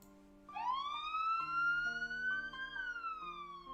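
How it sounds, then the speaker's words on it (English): A rising, wailing siren tone from the video game Higurashi swells and holds loud and clear over a soft musical backdrop, then dips slightly toward the end. "from somewhere, she could hear the sound of the siren"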